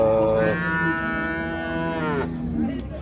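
A cow gives one long, loud, close moo lasting a couple of seconds, with faint background noise around it, at a livestock market in Bukhara.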